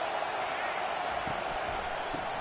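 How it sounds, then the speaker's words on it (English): A stadium crowd in a college football video game between Miami and Texas keeps up a steady, dense roar that fills the whole clip, with faint scattered thumps beneath it. "This crowd trying to make life miserable for this offense."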